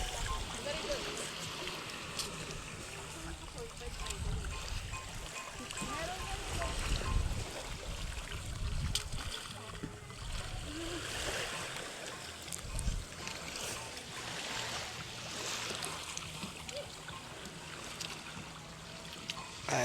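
Outdoor water scene with a jet ski and boat engines droning and water splashing, voices talking intermittently over the steady hum of passing watercraft.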